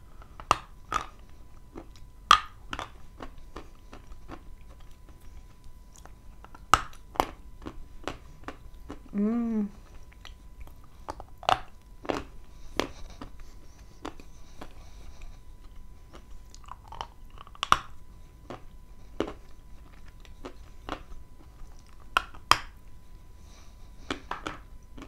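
Crisp crunching bites and chewing of Zhetysai fruit up close, repeated irregular crunches scattered over about twenty-five seconds, with a brief voiced sound in the middle.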